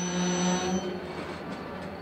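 A Chicago, Fort Wayne & Eastern freight train pulls away west under EMD diesel power, with a loud, steady engine drone and humming rumble nearby and no talk.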